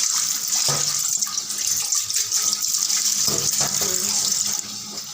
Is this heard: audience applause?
no